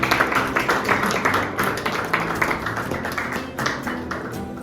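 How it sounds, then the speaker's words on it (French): An audience at a master class closing ceremony applauds, a dense, steady patter of many hands clapping that fills the room without pause, no voices. "Sous vos applaudissements, merci."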